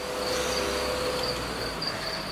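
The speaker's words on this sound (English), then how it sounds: "But you can hear the chirping, huh? So we do have crickets here." Crickets kept in a bin chirp continuously in a steady high-pitched trill, moderately loud and close, layered over a constant broadband hiss with no voices.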